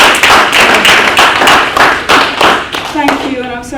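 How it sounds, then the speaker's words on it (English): An audience at a book launch of Welsh and English dialect poems claps steadily, a dense, loud burst of applause that tapers off near the end as a voice begins. "she deserves a clap just for making it"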